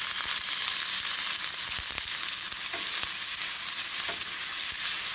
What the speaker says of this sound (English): Added the onions. Want this to sweat a little bit.